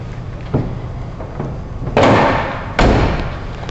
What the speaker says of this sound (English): Actually, let's close the hood up.